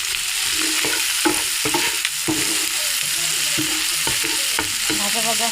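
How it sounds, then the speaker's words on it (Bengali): Noodles with egg, tomato and spices being stirred in a hot pan, a continuous close sizzle broken by repeated rhythmic scrapes and clanks of the spatula against the metal, with no talking. "মশলা দিয়ে আমরা ভালোভাবে নাড়াচাড়া দিয়ে যাবো।"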